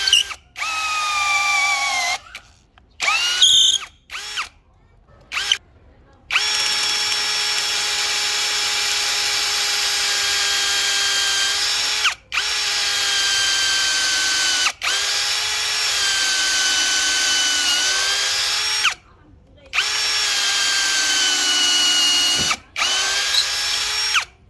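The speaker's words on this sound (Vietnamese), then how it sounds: "giờ em sẽ tiến hành khoan gỗ và khoan sắt cho các bác cùng xem nhá" A Dekton 13mm power drill with a 12mm bit bores into wood, a loud, steady motor whine held in long runs with short pauses and bursts between them, close up and without talk.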